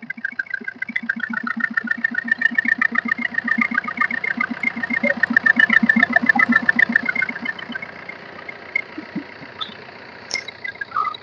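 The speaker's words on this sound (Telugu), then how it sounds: "బండి చాలా అంటే చాలా చాలా సైలెంట్గా ఉందండి ఇంజను" Idling 2017 Maruti Suzuki Brezza ZDi+ diesel engine with about 116,000 km, a steady close mid-pitched rhythmic chug that swells slightly in the middle, heard alone without talk.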